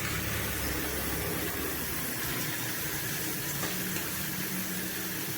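Gobindobhog rice fries in spiced ghee for Bengali muri ghonto, a soft, constant sizzle and crackle with faint stirring scrapes, steady and close throughout.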